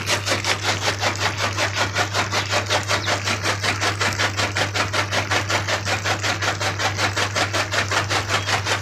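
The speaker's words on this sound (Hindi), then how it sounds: "चारा कुतरा जा रहा है, काटा नहीं जा रहा।" A fodder chopper machine, likely driven by a motor, chops animal feed on a farm in rainy weather. Its fast, steady rhythmic chopping is loud and close, with a constant low mechanical hum underneath and no talking.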